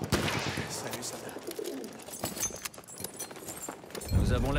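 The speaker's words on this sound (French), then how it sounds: "Nous avons lâché le pigeon." A war pigeon released in the Battlefield 1 video game, a rush of wing flutter and cooing amid battle noise and game voices, with a loud low rumble near the end.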